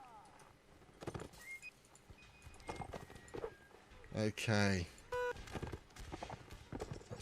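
Horses gallop across a line battle in Mount and Blade, a video game: clip-clop hoofbeats come in bursts with a brief whinny, while a voice speaks briefly over them.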